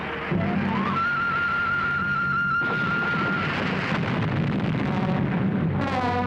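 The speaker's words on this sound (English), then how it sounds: "What's that? An artillery shell." Cartoon artillery shell effect from an animated space series: a rising whistle of the incoming round, then a sustained rumbling explosion roar.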